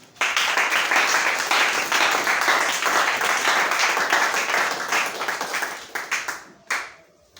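An audience gathered in a church claps loudly and steadily for several seconds, a dense wash of hands that thins out and breaks into a few scattered claps before stopping near the end.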